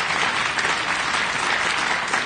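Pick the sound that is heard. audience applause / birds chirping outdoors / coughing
audience applause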